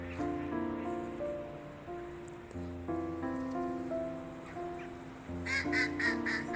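Two ducks quack repeatedly by the water during a first snowfall in Orel, with clear nasal calls in short runs over a faint lapping background.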